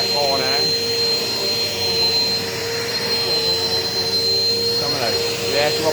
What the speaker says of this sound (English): So I'm going to vacuum up a little bit here with this.